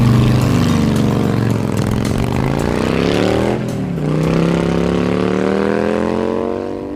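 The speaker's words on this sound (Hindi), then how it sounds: "बाइक स्टार्ट की और श्रेया के घर के लिए निकल पड़ा" A motorbike engine starts and revs as the bike rides off, a loud, steady harmonic drone that dips and then climbs in pitch before easing slightly at the end.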